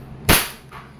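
One crisp, loud report from an EMG Pit Viper airsoft pistol fired at close range, followed by a short, softer mechanical clack, with nothing else audible.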